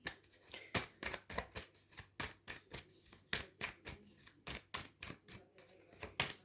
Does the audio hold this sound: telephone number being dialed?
no